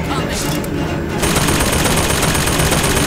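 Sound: turret firing in Bioshock Infinite video game

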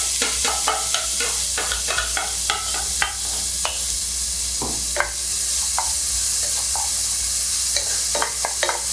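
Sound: stir-frying minced garlic, ginger and onion in a wok

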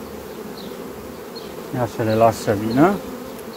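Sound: honey bees arriving at the hive entrance

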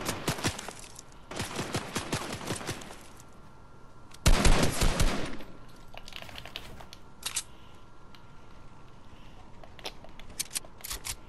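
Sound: gunfire in the Fortnite video game

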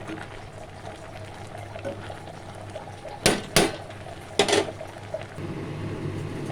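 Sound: stirring jute leaves frying in a wok

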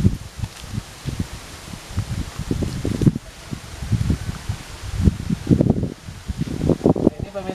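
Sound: gentle breeze rustling leaves at a hillside grave

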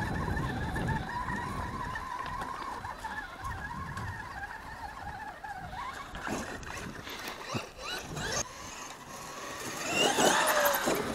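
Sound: Traxxas X-Maxx RC truck driving and doing a wheelie

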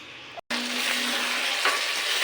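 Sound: chicken being braised (kosha) in a pan

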